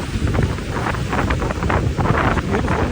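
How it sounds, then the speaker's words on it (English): Strong wind and crashing surf on a stormy morning at Rhoscolyn beach on Anglesey, with loud, continuous roaring gusts buffeting the microphone and waves rolling in beneath them. "angry beach and waves?"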